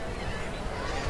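Gulls call out over a rainy baseball stadium during a pro game between Baltimore and Pittsburgh, honking cries layered on a steady wash of rain and crowd noise.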